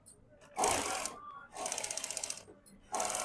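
A sewing machine runs lining onto the main fabric of an embroidered blouse in three short close bursts of rapid rhythmic stitching separated by brief pauses.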